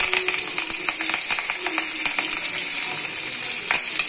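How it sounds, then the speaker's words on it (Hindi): Hot oil sizzles steadily with sharp pops and crackles as mustard seeds, curry leaves and dried red chilies fry, a close, continuous frying sound with no talking. "कड़ी पत्ता और सूखी मिर्च, ये मैं तीन चीज़ का तड़का डालती हूँ।"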